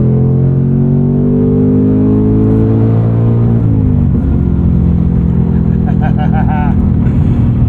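A 2024 Ford Mustang Dark Horse with a Tremec six-speed manual revs hard toward 7,000 RPM, its tuned exhaust roaring loud and close with rising engine pitch, a brief dip as it shifts, then building again.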